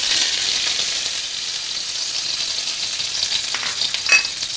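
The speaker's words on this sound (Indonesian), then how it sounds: "Okay, kita panaskan minyak, kita boleh tumis semua ni." Close, steady hiss of dried shrimp, mustard seeds, garlic, shallots and dried chili stir-frying in hot oil, with a brief sharper crackle near the end and no talk.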